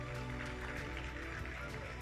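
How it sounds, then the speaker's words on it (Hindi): Crowd applauding the Delhi team at a cricket match, heard as steady, distant clapping mixed into a loud, constant hum of crowd noise. "एक बार जोरदार तालियां दिल्ली के लिए।"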